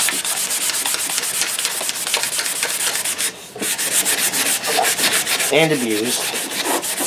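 An axe handle is rubbed briskly with 320-grit sandpaper while hafting a trail axe, making close, fast, scratchy strokes with a brief pause midway, and a voice speaks briefly near the end.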